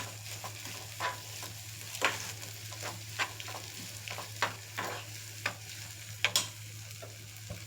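Steady sizzle of tempering frying in a pan for a raw mango and coconut chutney, with repeated scraping stirs of a spatula, irregular knocks over a low constant hum.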